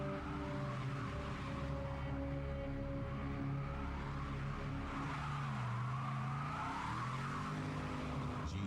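A 350 horsepower Pontiac GTO driving hard, its engine droning steadily and rising in pitch with squealing tires, loud and continuous with no talk.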